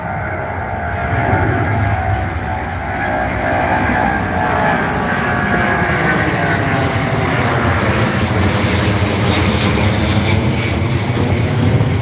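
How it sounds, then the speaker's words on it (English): A Boeing 777 at Heathrow fills the air with a loud, continuous jet engine roar and deep rumble that holds steady throughout, with no voices over it. "What a rumble, what a noise, what an absolute dream. Cannot beat the 777"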